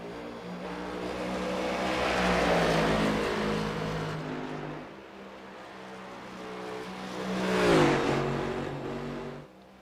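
NextGen Cup Series stock cars, including a Ford Mustang, race at Iowa Speedway in iRacing. Engines drone and swell in pitch, and one car roars past close by near the end.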